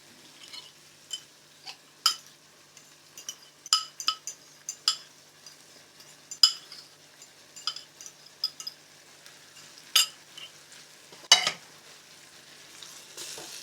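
Tomatoes and fava beans fry in a pan while being stirred, with a soft sizzle beneath scattered spoon scrapes and clinks against the pan that come in irregular bursts, close and fairly quiet.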